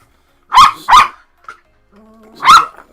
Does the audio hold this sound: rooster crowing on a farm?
no